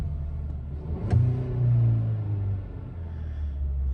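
A 2023 Hyundai Kona N-Line engine hums at a steady low rumble, swelling briefly as revs rise and then easing down slowly, heard from inside the car without talk.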